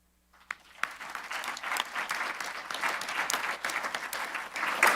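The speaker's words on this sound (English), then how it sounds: "And now everyone can applaud." Audience applause closing a League of Women Voters county board of supervisors candidate forum, starting from near silence with a few scattered claps, then swelling into full steady clapping across the room.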